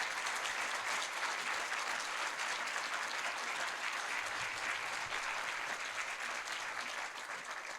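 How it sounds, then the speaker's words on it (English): Sustained applause from the audience at a literary hall of fame induction ceremony, a thick continuous roar of many hands clapping that stays full throughout and tapers only slightly at the end. "Please give them all a round of applause."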